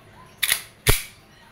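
Two sharp, close semi-automatic shots from a WE 2011 Hi-Capa T-Rex airsoft pistol fired through a chronograph, a crisp snap followed a half-second later by a second, punchier crack, with no talking.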